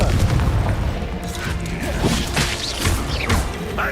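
A barrage of Confringo explosion spells during spell-casting combat in Hogwarts Legacy: dense, loud booms, crashes and whooshes tumbling over one another without pause.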